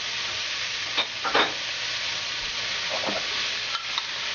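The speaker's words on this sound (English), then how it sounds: "Now we're going to add the celery." Chopped celery and onions sautéing in a pan for chicken pot pie, a continuous sizzle with several short scraping stirs of a utensil.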